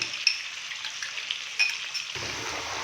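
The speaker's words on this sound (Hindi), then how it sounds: "और अदरक लहसुन के पेस्ट के साथ हम बीफ को भून लेंगे तकरीबन 3 से 4 मिनट के लिए।" Beef frying in ghee with ginger garlic paste for a Sindhi beef biryani, a close, steady sizzle with a couple of brief utensil clinks and stirring.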